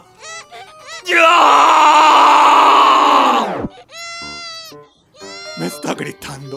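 A cartoon baby screams, one long loud wail that lasts a couple of seconds and then trails off. Bursts of animated voices come before it and after it.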